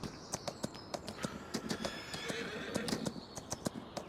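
A horse in the Farming Simulator 25 game on a Louisiana sugarcane farm gives repeated whinnies over a steady run of sharp hoof clip-clops, fairly close, with faint mechanical background.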